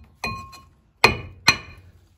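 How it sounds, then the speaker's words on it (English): Hammer tapping a Citroen C3 brake disc to loosen it from the hub, three sharp metallic ringing knocks, the last two louder and closer together, alone in a quiet workshop. "then we get the hammer"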